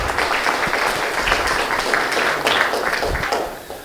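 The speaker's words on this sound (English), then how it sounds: "let's give the organization a round of applause" An audience at a symposium welcome, marking an organization's 35th anniversary, breaks into a round of applause. The full, close clapping lasts a few seconds and tapers off at the end.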